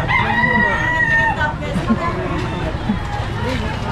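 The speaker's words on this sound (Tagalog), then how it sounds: "May mga kulungan ng manok." A rooster crows from chicken cages along a street during a Manila traffic clearing operation, its drawn-out call near and loud over crowd babble and people talking.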